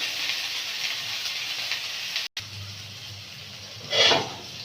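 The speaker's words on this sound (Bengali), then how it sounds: "একটু লবণ দিয়ে উচ্ছেটা ভেজে নেব" Bitter gourd frying in hot oil with a little salt, a soft, even sizzle running throughout, briefly cut off midway, then a louder hissing swell near the end.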